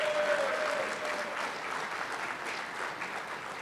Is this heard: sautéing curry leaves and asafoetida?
no